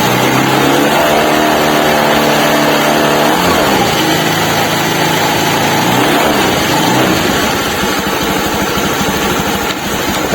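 A Honda Scoopy carburetor scooter with a worn pulley revs loudly and close by, its engine note climbing and falling through repeated throttle blips over a steady rattly drone, with no voices.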